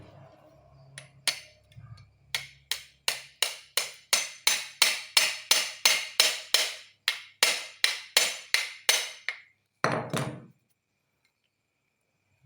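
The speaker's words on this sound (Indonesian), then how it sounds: "Ini ketok aja pakai palu." A hammer taps a metal part of a Sharp Ace Deluxe water pump being serviced, striking about twenty times in a steady, fairly quick rhythm. The blows are sharp and close, then stop, and a brief scraping knock follows.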